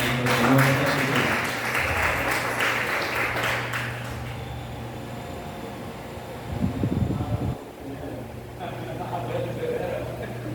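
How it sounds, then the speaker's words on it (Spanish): Church congregation applauding together as an offering of praise during a Spanish-language Sunday fast service, a broad sustained clatter of many hands for about four seconds, with a mechanical hum and speech following. "démosle una ofrenda de palmas a nuestro Señor Jesucristo."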